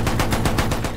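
Rapid automatic gunfire in Battlefield 1 rattles in a fast, even burst of about eight shots, loud and close.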